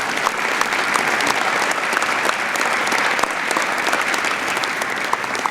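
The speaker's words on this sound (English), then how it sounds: "Let's have a round of applause for those 19 women." A large crowd at a 2023 Hall of Fame dinner applauds nineteen women honorees, a dense, steady roar of many hands clapping that holds at full strength throughout.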